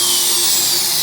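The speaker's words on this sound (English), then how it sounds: "I'm going to start with drilling a hole" A power drill whines steadily while boring a hole into a 55-gallon steel drum, a loud continuous high-pitched buzz with no pauses.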